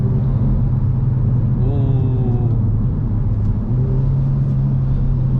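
A 2018 Hyundai Elantra Sport with the 1.6T engine downshifting in manual mode, a steady close engine hum with a brief rising rev blip partway through, heard from inside the cabin.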